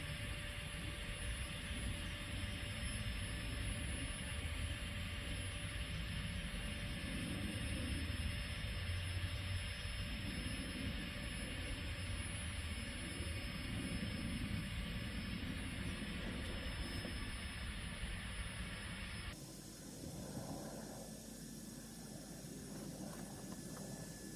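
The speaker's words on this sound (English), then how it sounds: "I also treated myself to a micro pump, which I'm about to connect." A small electric micro pump inflates an airbed at a campsite, played at double speed: a steady, loud whirring drone runs throughout and shifts in tone near the end.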